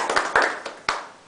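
A few hands clap sparsely in a church congregation, four or five distinct separate claps with gaps between them, close and fairly light.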